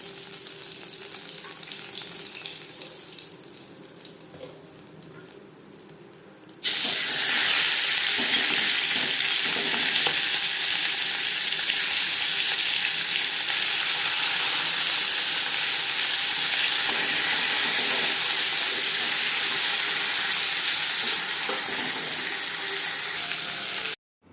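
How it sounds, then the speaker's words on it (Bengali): Rohu fish pieces fry in hot oil for a Bengali fish curry, a loud, steady sizzle and crackle that starts abruptly after a quieter stretch and continues uninterrupted nearly to the end, with no talking. "প্রথম ব্যাচে মাছ ভাজা হয়ে গেছে একটা পাত্রে উঠিয়ে নেবে"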